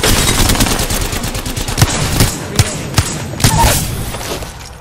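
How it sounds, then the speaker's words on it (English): Rapid automatic gunfire rattles nonstop in an Apex Legends match, loud and close, with several heavier sharp shots and thumps punching through the dense burst. "They're shooting."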